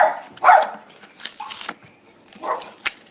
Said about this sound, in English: Look. It's just our dog.